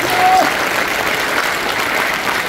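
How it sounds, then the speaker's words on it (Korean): Loud, dense crowd applause fills a Democratic Party members' rally in Naju and Hwasun, steady from start to finish, with a brief whistle-like tone early on. "여러분 큰 박수 한번"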